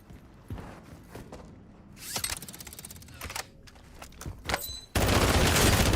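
Gunfire in a video game, scattered sharp shots and mechanical clicks over background noise, ending in a loud sustained burst of rapid fire.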